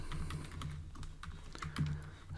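Rapid, irregular keystrokes on a computer keyboard while Java code is typed, soft close clicks in uneven bursts over a low steady hum.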